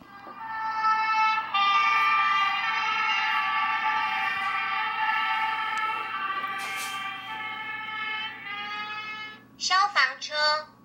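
A fire truck siren sound effect plays in a quiz game: a loud, steady wailing tone that holds for several seconds, then fades, followed by a short burst of voices at the end.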